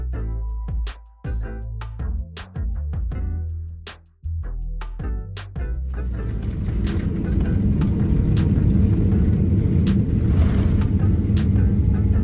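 A Swiss Boeing 777-300ER touches down at Zurich, heard from inside the cabin: a series of heavy thumps and jolts gives way to a loud, steady rumble and roar as the jet rolls out on the runway.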